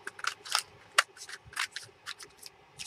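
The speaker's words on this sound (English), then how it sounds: "Let me just get my scissors and I'll just trim that straight down here." Scissors trim paper scraps for a craft project with a series of crisp, close snips in an irregular rhythm, some sharper and louder than others, with no talking.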